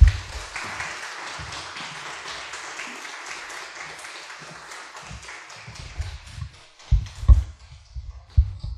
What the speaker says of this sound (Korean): 우리 목사님 나오실 때 큰 감사의 박수 보내겠습니다